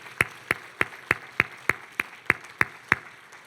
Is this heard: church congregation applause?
yes